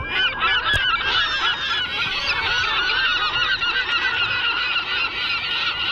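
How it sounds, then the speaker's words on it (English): Recorded seagull calls evoking the English seaside, a dense, continuous chorus of loud overlapping squawks and cries with no pauses and no talking. "we recapture the sounds of the English seaside, at least. We have the seagulls"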